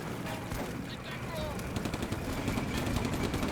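Distant, continuous gunfire aimed at infantry during a World War II tank battle in the Combat Mission strategy game, a steady crackle of small-arms and machine-gun fire with scattered sharper shots under faint talk.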